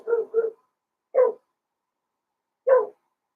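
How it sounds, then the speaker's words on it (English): A dog barks close by: two quick barks, then a single bark after a pause, then another after a longer gap, each sharp against otherwise silent surroundings. "my dog is barking at something"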